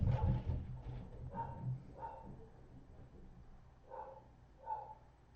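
A dog barks at a door several times, muffled and somewhat distant, in short spaced yips and woofs over a low background hum.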